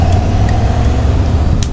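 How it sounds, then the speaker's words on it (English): A car in a PS4 game heading onto the Shuto Expressway toward Yokohama Stadium, with a loud, continuous engine drone and road rumble plus a faint tonal hum, without speech. "Sena drives his car towards Yokohama Stadium and without hesitation goes onto the Shuto Expressway."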